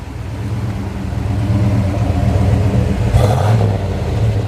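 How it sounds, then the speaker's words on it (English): Big-block 454 V8 in a 1990 Chevrolet 454 SS pickup truck running close by, a deep, loud, steady rumble that swells slightly near the end. "That's a great sounding little truck."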